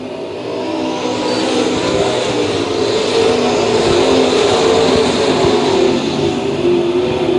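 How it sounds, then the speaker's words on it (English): Modified stock race cars roar around a dirt oval track at a USRA nationals feature, a dense, continuous engine drone that stays loud and steady throughout with no voices over it. "Down the back straightaway, Donnie Brown. Out front. He'll lead the field into turn 3."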